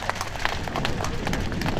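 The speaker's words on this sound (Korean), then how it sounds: "여러분 다시 한번 큰 박수 부탁드리겠습니다." An audience claps together at an event, a dense steady patter of applause continuing throughout at moderate volume with no speech over it.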